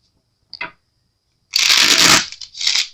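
Tarot cards are shuffled by hand, with a brief flick first and then a longer, loud riffling burst followed by a shorter one, close up.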